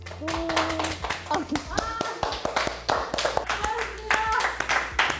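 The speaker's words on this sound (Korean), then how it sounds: "박수 한번 치고 마무리하는 걸로 하겠습니다" Audience clapping at the close of a stage event at a university media and PR festival, a scattered burst of handclaps near and moderately loud, mixed with voices talking.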